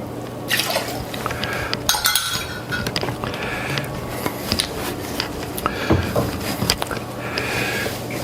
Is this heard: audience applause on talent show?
no